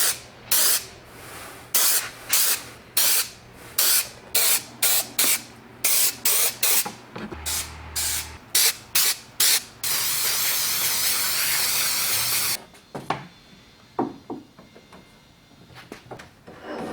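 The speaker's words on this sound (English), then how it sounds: "if you're using any spray adhesive like this where it gets super messy" An aerosol can of spray adhesive hisses in a string of short bursts, then one long continuous spray, close and loud, aimed onto a scrap piece of cardboard.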